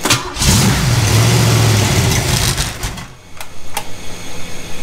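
Project Ethel's engine on a test stand fires up and revs hard, a loud rising roar that settles and then pulses in uneven bursts of throttle.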